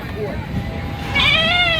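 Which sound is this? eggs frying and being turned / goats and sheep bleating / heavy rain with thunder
goats and sheep bleating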